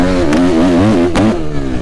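A Suzuki 250F four-stroke motocross bike engine revs loudly and close, its pitch rising and falling in wavering sweeps with two sharp throttle blips, and no voices.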